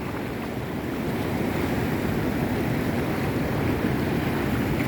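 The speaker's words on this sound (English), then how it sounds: "Water's flowing nice here." Seawater rushing through the freshly opened mouth channel of Swartvlei Lagoon at Sedgefield after heavy rain, a loud, steady roar of flowing water with wind buffeting the microphone, continuous and close.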